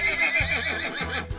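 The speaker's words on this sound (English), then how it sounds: "Here we have a light brown horse" A light brown horse gives a close, wavering neigh with a rising and falling whinny, followed by short breathy snorts.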